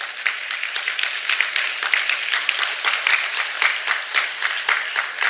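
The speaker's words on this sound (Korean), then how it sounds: "감사의 박수 올려주시면 좋겠습니다" A church congregation claps in thanks to God at a seminar gathering, a dense, loud, even burst of many hands applauding for several seconds with little talk.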